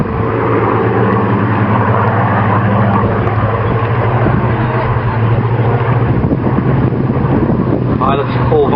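A Hawker Hurricane Mk II and a Supermarine Spitfire Mk 19 fly past at an RAF air show at East Kirkby, their engines a steady loud drone through wind buffeting on the microphone while a commentator talks over them.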